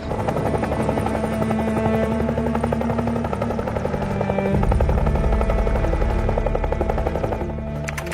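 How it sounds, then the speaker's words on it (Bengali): A helicopter drones loudly and steadily throughout, its rotor and engine noise swelling as it draws nearer toward the end, in an emergency scene involving the Bangladesh Army. "স্যার হেলিকপ্টার আসছে স্যার, হেলিকপ্টার আসছে স্যার।"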